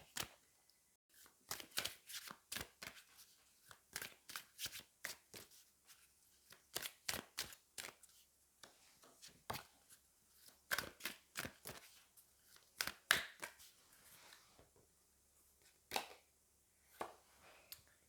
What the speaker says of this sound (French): J'ai presque envie de reprendre une carte de l'oracle des miroirs pour venir ici.